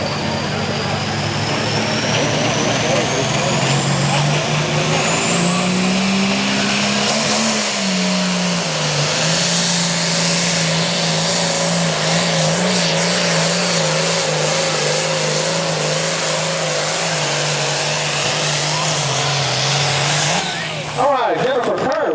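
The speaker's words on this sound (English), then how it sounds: "Oliver tractor this year" A loud Oliver tractor roars under full power at a Hillsboro tractor and truck pull, the engine note climbing and straining steadily for about twenty seconds before cutting off abruptly, with an announcer's voice mixed in.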